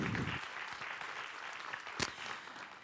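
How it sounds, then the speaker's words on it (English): Faint audience applause closing a conference presentation, soft continuous clapping heard at a distance, with one sharper louder clap standing out midway. "A big applause."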